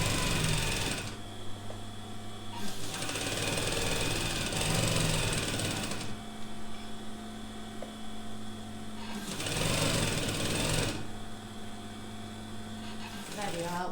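Sewing machine stitching the fabric edge of a shower cap, running in several bursts of fast mechanical whirring separated by short pauses, close and fairly quiet, with faint talk in between.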